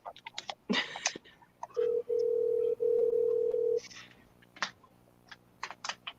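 A telephone call being dialed: key presses give way to a steady dial tone that cuts off and resumes a few times, followed by more brief tones and clicks, with no talk.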